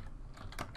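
Control A shortcut pressed on a computer keyboard while editing, heard as a couple of quick, faint key clicks close by over low room hum.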